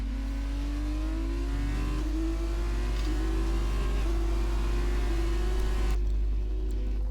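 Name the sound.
Formula 2 race car engine on qualifying lap, Abu Dhabi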